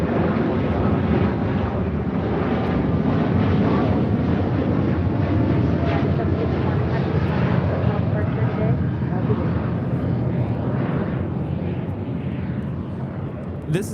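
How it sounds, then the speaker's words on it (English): A United Airlines Boeing 787-9 Dreamliner takes off from Los Angeles LAX, a loud continuous engine roar with broad rumbling noise holding steady for the whole stretch, heard from nearby in the open. "This is United Airlines 751 taking off to Washington Dulles on a 787-9 Dreamliner."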